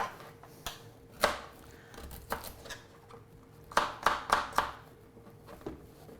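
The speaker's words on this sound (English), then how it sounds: "So chop the washed carrots," A knife chops washed carrots on a board, taking the ends off, with scattered single thuds followed by a quick run of four close cuts, near and fairly quiet.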